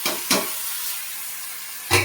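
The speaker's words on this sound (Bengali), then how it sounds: "এখন চাউমিনটা দিয়ে দেব।" Chow mein noodles with Maggi masala, salt and turmeric go into a hot pan: a steady hiss of frying runs throughout, with a few short scraping or dropping sounds at the start and end, close by.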